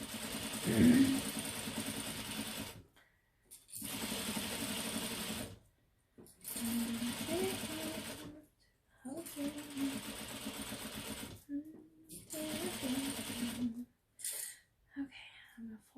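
A sewing machine runs in repeated bursts of steady stitching, each a few seconds long with brief pauses between, attaching vinyl piping along a gusset with a presser foot, close and moderately loud with quiet speech at the start.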